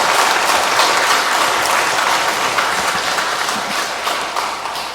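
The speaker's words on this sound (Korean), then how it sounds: "수고하신 우리 라도젠 성가대 감사 축하 박수 한번 보내드려요" A church congregation at a Sunday Mass applauds the parish choir, a loud, dense and sustained wash of clapping that fills the space and tapers only slightly near the end, with no voices over it.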